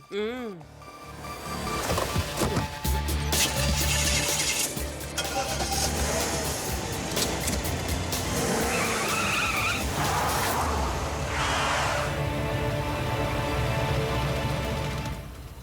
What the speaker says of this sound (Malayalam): വാ മോട്ടു നമുക്ക് കാറ് ട്രാക്കിന്റെ മുകളിൽ കൂടി ഓടിക്കാം